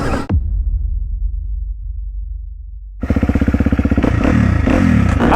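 A dirt bike being ridden roars close by, dropping away briefly before the engine snaps back with a rapid pulsing rev that climbs into a loud, sustained buzz.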